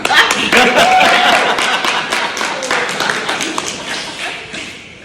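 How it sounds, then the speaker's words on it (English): A church congregation gives a round of applause after a reading at a Pentecost service, a dense burst of many hands clapping that starts loud and gradually tapers off. "let's give a round of applause to Ann Mountford for that reading"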